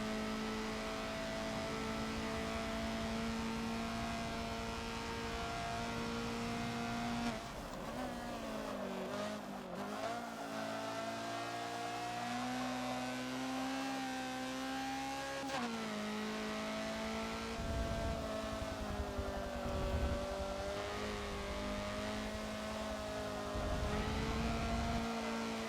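Honda CRX engine in the Forza racing game on the Mugello club track, revving loudly and steadily with pitch rising and falling through gear changes and chicanes, continuous and close throughout.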